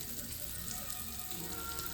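Fish fry in a pan, giving a faint, even sizzling hiss that holds steady throughout.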